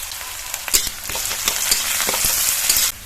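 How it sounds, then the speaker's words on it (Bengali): Chopped onion and garlic frying in hot oil in a wok, a loud, close, continuous crackling sizzle with a few sharper pops, stopping abruptly near the end. "গরম তেলে পেঁয়াজ কুচি দিয়ে দেবো"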